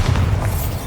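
Bombarda explosion spell in Hogwarts Legacy hitting with a single deep, loud boom that sustains a low rumble for under a second.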